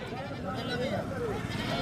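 Goats bleat at a busy goat market selling desi Nagra and Beetal goats with kids, steady crowd chatter and voices running underneath throughout.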